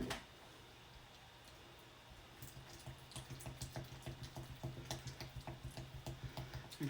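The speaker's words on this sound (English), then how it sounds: "so I'm just going to add a little bit more water." Water is added to a chalk paste and stirred in: a trickle of liquid, then a steady run of rhythmic scraping and stirring strokes, close by with no talking.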